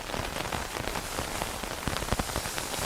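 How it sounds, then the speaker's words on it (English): Steady rain patters on a tent during a camping trip in the Lake District, a dense, close drumming of drops with occasional louder hits and no voices. "So it started to rain and I'm inside my tent."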